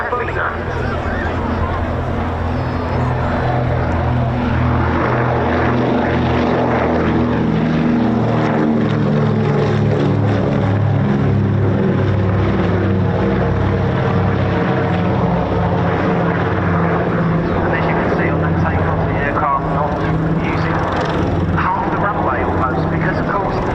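A Consolidated PBY-5A Catalina amphibious flying boat takes off at an air show, its propeller engines droning loud and throbbing as they climb, while a commentator talks over the roar.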